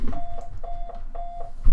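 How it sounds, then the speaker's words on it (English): A mobile phone rings loudly nearby in a room: a repeating electronic tone sounding in three evenly spaced bursts, each about a third of a second long, with a low rumble beneath. "That's just my phone's ringing in the background."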